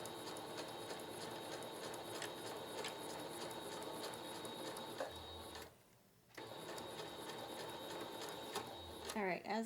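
A sewing machine stitches a fabric project bag in a steady, continuous mechanical whir close by, pausing briefly partway through before running on.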